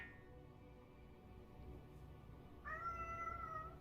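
A single drawn-out meow rises near the end, fairly clear over a low steady background hum.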